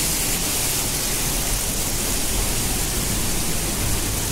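Thoseghar waterfall in Satara thunders from close behind the falling water, a dense, constant roar of rushing water with no pauses.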